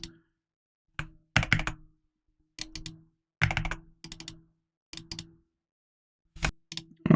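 Computer keyboard typing in short irregular clusters of crisp, close key clicks with silent gaps between them, heard alone with no voices.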